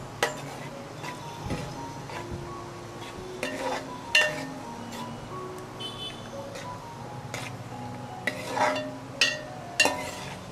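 A ladle stirs thick ada payasam with jaggery in a pot, giving a run of scattered metallic clinks and scrapes at an uneven pace, with a few sharper knocks standing out against quiet kitchen background.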